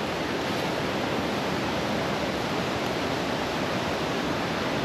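A waterfall in Portugal, reached by a hiking trail, sends out a loud, steady rush of water that fills the whole stretch as an unbroken roar with no voices over it.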